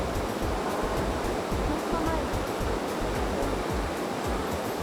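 Steady, close, full roar of falling water from a waterfall, continuous and even throughout, with no clear voices over it.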